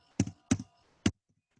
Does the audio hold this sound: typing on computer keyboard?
yes